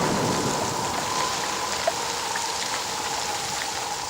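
Heavy monsoon rain falls steadily over Kerala in June, a dense continuous hiss of drops on surfaces with no pauses, a single faint tap standing out midway.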